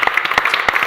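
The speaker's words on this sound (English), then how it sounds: "give them a hand clap" Brief applause from a telethon studio audience, a quick scatter of close, bright hand claps bunched together in under a second, with no speech over it.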